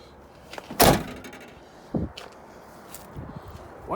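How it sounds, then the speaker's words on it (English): A door in a hoarder's cluttered house is opened with a sharp clunk of the latch, followed by a softer thump and faint rustles, close by with no talking. "I'm going to open this door"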